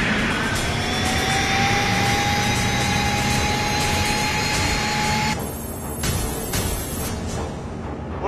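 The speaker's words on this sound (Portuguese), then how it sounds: "motores ligados." Spaceship engines powering up in an animated series, a loud sustained roar with a steady rising whine that cuts off abruptly partway through, leaving a thinner mechanical hum.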